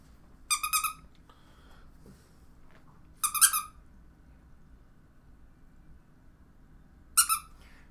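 A squeaky monkey toy is squeezed three times, each a quick rapid-fire burst of bright squeaks, spaced a few seconds apart over quiet background hiss.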